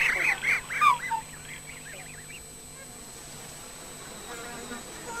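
Black swans calling near a shallow lagoon or swamp, a few honking, wavering calls close together in the first two seconds, then fading into quiet ambient background.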